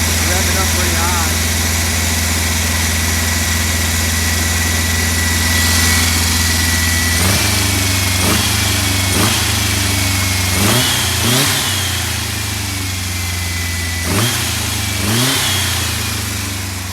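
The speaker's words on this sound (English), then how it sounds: "Revving up pretty high." A VW Beetle engine idles steadily, then revs high in several sharp bursts that climb and fall back, close to the microphone.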